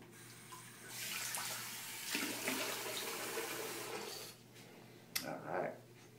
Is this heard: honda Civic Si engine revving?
no